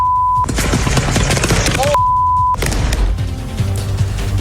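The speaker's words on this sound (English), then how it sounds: "Gunshots ring out on eastbound 80 as deputies shoot and kill a suspect after a chase." A dense, loud barrage of gunfire cracks and booms continuously as deputies shoot a suspect after a chase on eastbound Interstate 80, with a steady censor-like beep tone cutting in twice.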